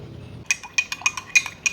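Glasses clink together several times in quick succession during a toast, bright ringing taps close to the microphone in an otherwise quiet room.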